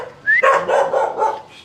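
A dog barking at a house: a short whine rising into a burst of several quick, loud, close yappy barks.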